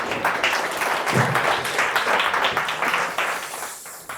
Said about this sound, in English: If we could please start with a round of applause.